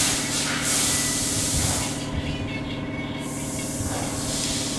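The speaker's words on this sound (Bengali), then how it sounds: "প্রথমে তেল গরম হলে আলুটা দিয়ে তাতে হলুদ আর লবণ দিয়ে ঢাকা দিয়ে" Potato pieces frying in hot oil with turmeric and salt, a steady close sizzling hiss that fills the whole stretch without pause.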